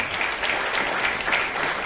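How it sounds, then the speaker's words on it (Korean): Dense applause from the audience at a national committee meeting of the Liberty Korea Party, filling a large hall steadily and evenly with many clapping hands, with no voices over it. "그분들에게도 박수 한번 불러주시기 바랍니다"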